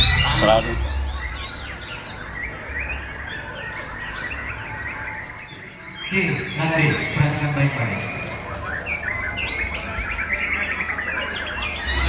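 Songbirds sing constantly at a bird song contest, bright chirps and trills layered together over a busy crowd murmur, with a brief lull near the middle before the chorus resumes.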